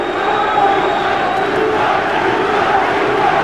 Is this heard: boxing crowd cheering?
yes